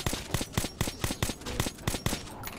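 Automatic gunfire from a weapon in the Metro 2033 Redux video game, Polis level: rapid, evenly spaced loud shots, about a dozen in quick succession, close and punchy.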